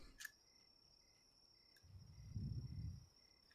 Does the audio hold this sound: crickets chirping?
yes